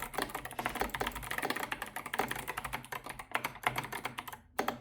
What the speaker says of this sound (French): Est-ce que ça vous dérange ces switches clicky?